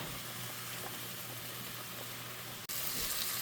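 Mushrooms seasoned with salt and pepper sauté in a hot pan, giving a steady, close sizzle throughout with a brief dropout near the end and no talking.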